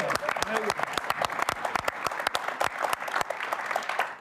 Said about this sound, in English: So let's get a round of applause for our wife.